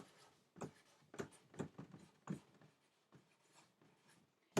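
A pen or pencil writing on paper during a classroom lesson makes soft, quiet scratching strokes in short bursts with brief pauses between them.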